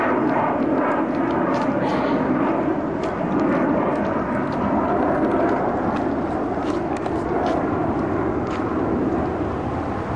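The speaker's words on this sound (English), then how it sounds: "I just want to videotape an airplane." An airplane passes overhead outdoors as a steady, loud broadband roar that holds evenly throughout, with faint voices in the background.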